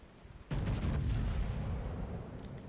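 A single heavy gunshot booms in a video game, followed by a long, dense rumbling roar that slowly fades over the next couple of seconds.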